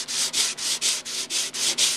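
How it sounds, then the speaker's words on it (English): Body panel on a Datsun 260Z being hand-sanded with rhythmic back-and-forth strokes, about eight even hissing passes in two seconds, loud and close with no talking. "we'll sand it down"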